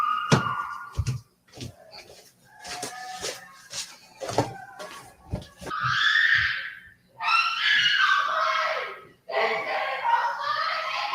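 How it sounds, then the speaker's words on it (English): A woman screams in anguish in leaked footage, with several long, loud cries in the second half. Before them come scattered knocks, shuffling and muffled voices. "anyone can hear the pain in that woman's screams"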